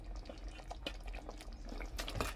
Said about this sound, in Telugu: ఇంకా పొయ్యి మీద ఇది ఇంకా బుడబుడబుడలాడుతుంది